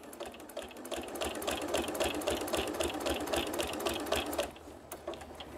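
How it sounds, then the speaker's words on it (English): A sewing machine stitches a fabric bowl cozy in a rapid, steady chatter of needle strokes that speeds along for several seconds, then stops, leaving brief handling noise. "So I'm going to go ahead and lower my needle"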